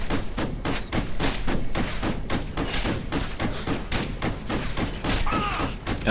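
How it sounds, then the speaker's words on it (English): Sniper rifle rounds fire in dense, heavy booms in the video game Ghost Recon Future Soldier, loud and continuous amid chaotic in-game gunfire and thuds, with no pause across the stretch. "here I'm shooting rounds with my sniper rifle into this thing"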